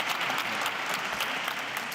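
Audience applause at a sustainability conference in Hamburg as two witnesses come on stage, a dense, even burst of clapping from a large crowd.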